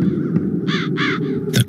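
Crows caw in the video game The Dark Eye: Chains of Satinav, several harsh calls in quick succession over a steady low ambient background, fairly close and alone without speech.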